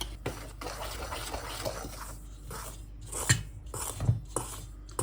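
Cake batter ingredients with a pinch of turmeric powder are stirred and scraped in a bowl, a run of soft rubbing strokes broken by a few sharp clinks of the utensil against the bowl, close and fairly quiet; no talking.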